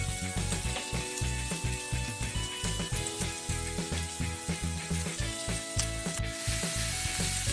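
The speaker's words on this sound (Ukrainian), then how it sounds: "Нашатковану капусту перекладаємо на розігріту пательню з олією і починаємо смажити." Steady, dense sizzling and crackling of shredded cabbage frying in hot oil in a pan, with occasional stirring clatter, close and continuous throughout.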